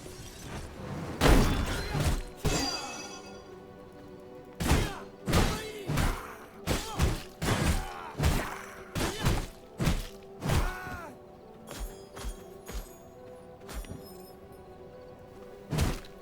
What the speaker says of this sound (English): you smack it and it goes ba-boom